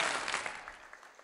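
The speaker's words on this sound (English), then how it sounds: "Let's give them a big collective round of applause." A crowd at a Gypsy Vanner horse anniversary celebration in an equestrian venue applauds, a broad wash of clapping that is strongest at first and then tapers off, heard from some distance and fairly faint.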